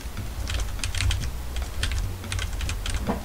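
Rapid, crisp clacks of a computer keyboard during a MapleStory gaming session, steady and close, over a low background hum.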